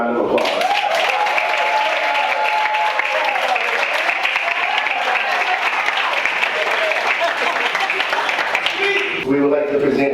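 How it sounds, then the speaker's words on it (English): A banquet audience applauds steadily and fairly loudly for about nine seconds, with a faint tone and some voices running beneath it, followed by a brief burst of talk at the end. "Please give them a round of applause."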